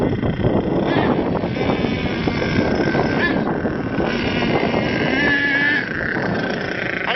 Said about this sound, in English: Started your Nitro engine.